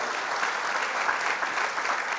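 A church congregation applauding during a sermon, with steady, even clapping from many hands and no voices over it.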